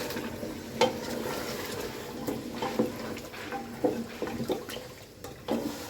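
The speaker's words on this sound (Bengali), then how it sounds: "আর কি আস্তে আস্তে সময় নিয়ে কষিয়ে নিব তারপরে রান্নাটা করে নেব" Meat sautés in a pan with a faint, steady sizzle while a utensil stirs and scrapes in irregular soft knocks, no voices.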